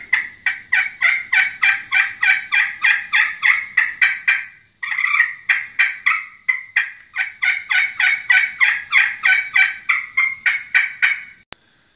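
Hand-worked turkey call imitating a turkey with a fast run of sharp, loud yelps, a brief pause near the middle, then another long steady run of close yelping notes.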